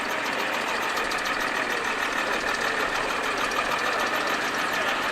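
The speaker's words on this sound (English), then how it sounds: "This is a 12-litre Rolls-Royce supercharged engine" A Bedford fire truck's 12-litre Rolls-Royce supercharged engine idling at a steam fair, a loud, steady, close rumble with a dense knocking texture that holds evenly throughout.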